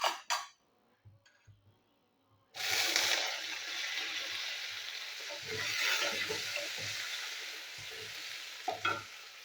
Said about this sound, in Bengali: এবার ওই একই তেলে আমি মটরগুলো ভেজে নেবো।